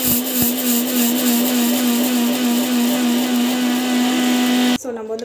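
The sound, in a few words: mixer grinder grinding mustard seeds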